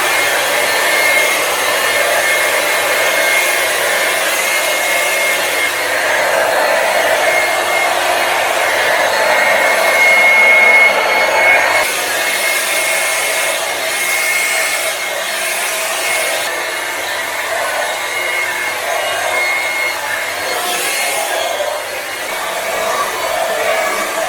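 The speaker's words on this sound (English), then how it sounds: "it's already 3 minutes and I want to dry my hair." A Braun AS530 hair dryer blows steadily and loudly at close range for the whole stretch, with a constant airy whoosh and no talking.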